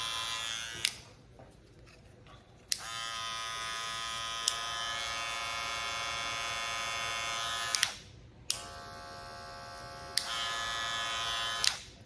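A Wahl Magic Clip hair clipper buzzes loudly and steadily nearby, switched on and off twice with sharp clicks and short pauses between two long runs.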